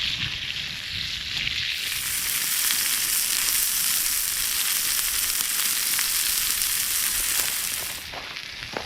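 Steak sizzling over hot fire coals at a solo truck campsite, a steady loud crackling hiss of frying fat that fills the whole stretch without talk.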